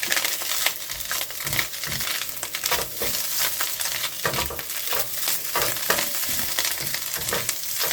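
Golden mushrooms fry in a pan in a travel trailer kitchen: a steady, close sizzle broken by frequent scraping and stirring clatters, with no one talking.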